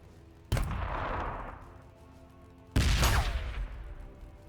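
Two loud rocket blasts in a Warhammer 40,000 Orks versus Blood Angels battle game, each a sudden explosive burst that rumbles and fades over about two seconds, the second slightly heavier.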